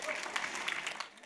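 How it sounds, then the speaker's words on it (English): Audience applause at a gala dinner, a brief, fairly faint burst of steady clapping from a crowded room. "I think they deserve a round of applause"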